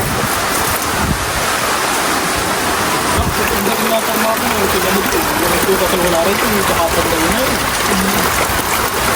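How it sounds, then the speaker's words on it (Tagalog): Steady rushing water drains from a fish pond, pouring continuously nearby, loud and broadband, while someone talks over it. "Kaya si Bossing po ay nagbabawas ng tubig sa fish pond."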